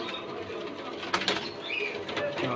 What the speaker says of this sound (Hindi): ये एक नस्ल के कबूतर हैं।